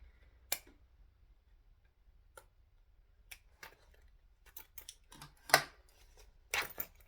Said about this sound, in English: It's a lot of stitching to cut through too, because I was quite thorough with my basting of the zipper.